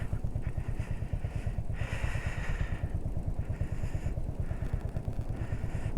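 Motorcycle engine running steadily on a cold, frosty ride through Nepal, a continuous close, loud throbbing pulse with wind rush rising and falling over it.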